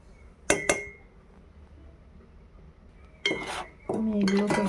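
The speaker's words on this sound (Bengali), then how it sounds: "আমি এগুলোকে ভালো করে মিশিয়ে নিলাম" Ingredients, including ground black pepper, mixed in a bowl with a utensil: one quick clink of metal on the bowl, a pause, then a run of clattering, scraping stirs up close, with no talk.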